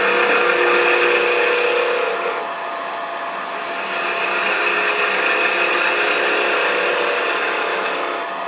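A wood lathe spins as scrap wood is shaped into a bird, giving a loud steady whine with a gouge cutting against the turning blank, which dips briefly and then rises again.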